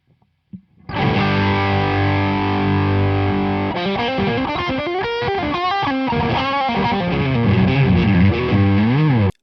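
A heavily distorted electric guitar through a Victory V4 Duchess amp with the gain cranked roars out a sustained chord, then launches into fast riffing and bending lead lines, loud and saturated throughout.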